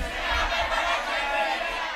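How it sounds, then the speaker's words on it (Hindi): A church congregation at a Hindi fasting prayer service shouts together in a loud, dense mass of voices that stays steady throughout. "सब लोग चिल्लाकर बोले, यीशु ने हमें बड़ा चर्च दे दिया है।"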